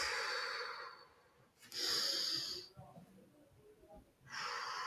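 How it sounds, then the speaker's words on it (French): During a stretching class, a person takes deep, audible breaths close by. There are three long airy exhalation rushes separated by quieter pauses, with a little faint background sound between them. "J'inspire et j'expire."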